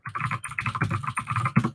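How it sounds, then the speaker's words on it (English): Typing on a computer keyboard during a live stream: a quick, close run of clicky keystrokes lasting under two seconds. "I'll type it in the chat."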